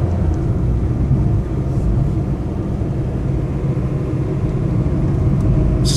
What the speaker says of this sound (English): And the gearbox is making nice, crisp shifts.